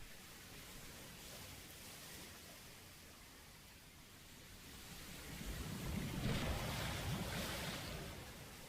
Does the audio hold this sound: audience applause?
no